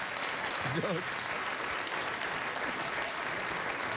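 Audience applause fills the room as a steady, even wash of clapping, moderately loud and sustained throughout, with a brief vocal sound rising over it early on.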